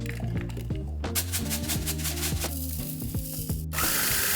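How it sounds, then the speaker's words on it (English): An electric blender whirs steadily as it grinds spruce tips with coarse salt. Its motor pitch shifts as the load changes, then it cuts off near the end, leaving a softer hiss. No one speaks. "I do like a more coarse salt, but I am going to blend some of it up"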